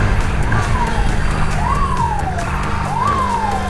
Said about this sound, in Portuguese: Deixa a ambulância passar, tio.